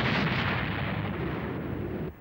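A heavy, sustained rumbling blast of cannon fire in an animated series, loud and close, roaring continuously before cutting off abruptly near the end.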